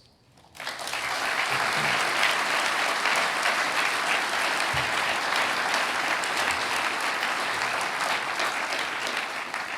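An august audience at a memorial lecture bursts into applause, a sudden, steady, full ovation sustained for several seconds at a moderate distance.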